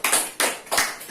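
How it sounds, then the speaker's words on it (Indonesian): Classmates clap for a student in a classroom, a short burst of several uneven hand claps close by with no talking. "Beri tepuk tangan untuk Karen ini"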